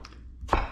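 A knife slicing through squash on a cutting board, making one short, firm chop that sounds close by, with a faint lighter tap just before it.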